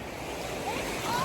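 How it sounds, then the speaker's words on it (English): Mild, calm ocean waves wash onto a beach in Jamaica after a rainstorm, a steady soft surf wash with some wind noise and a faint tonal whine partway through. "The waves are very mild."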